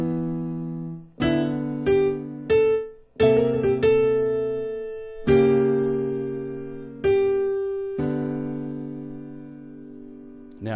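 A slow blues riff on a keyboard, a series of separate sustained chords and notes struck one after another with each decaying before the next, played alone and fairly loud.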